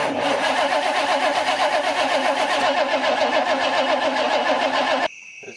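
A 1965 Chevrolet C10 truck engine cranks steadily and loudly for about five seconds with a rhythmic starter churn, then cuts off abruptly into a brief quiet hum, with no talking.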